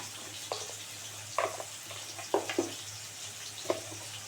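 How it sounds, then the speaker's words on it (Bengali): Potatoes frying in oil with salt and turmeric, a faint low sizzle broken by a handful of sharp clinks and scrapes as they are stirred, quiet and close over a steady background hum. "আলুটা না খুব সুন্দর করে লাল করে ভাজতে হবে"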